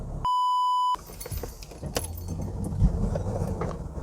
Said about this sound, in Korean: 아, 정말 부드럽게 시동이 걸리네요